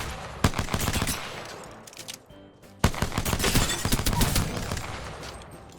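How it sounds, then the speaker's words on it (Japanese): Video game gunshots tap-fired one round at a time with a Flydigi APEX4 controller, loud, close and quickly repeated in irregular bursts with a short lull midway, no talking. "タップ打ちするとね、一発一発撃ったりもできます"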